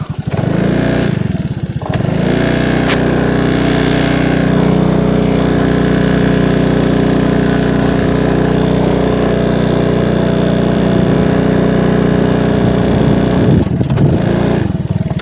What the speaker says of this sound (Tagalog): Medyo nabitin yung motor ko.